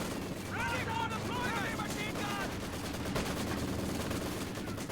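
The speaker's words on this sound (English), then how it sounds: "I hear Maxims firing away" Maxim machine guns fire in a Company of Heroes battle, a steady stream of distant gunfire and explosions running under a commentator's talk.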